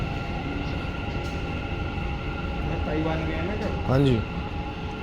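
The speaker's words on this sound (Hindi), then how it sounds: "भाइयों आ गई अपनी मेट्रो।" A metro train in Dubai rumbles in with a steady hum, then rising whines and a squeal of brakes as it pulls into the station; a voice briefly speaks.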